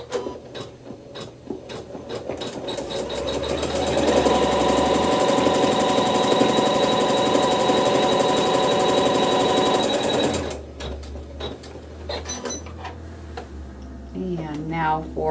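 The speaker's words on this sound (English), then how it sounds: "lay it right side down, raw edges even, and sew the seam" A sewing machine stitches a fabric seam, its needle hammering in a rapid, even run for several seconds before stopping, close and loud, with a voice talking around it.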